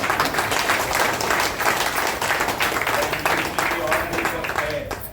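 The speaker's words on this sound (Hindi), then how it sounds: "A big round of applause for them" Audience applause at a business seminar, a dense, steady wash of many hands clapping that holds loud and continuous throughout, with a faint murmur of voices underneath.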